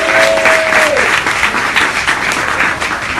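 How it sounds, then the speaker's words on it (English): Audience applause at a Code Pink panel event, a dense steady wash of clapping from a room full of people, loud and sustained throughout, with a brief tone fading early and faint voices mixed in. "give her a round of applause for all the hard work she's been doing"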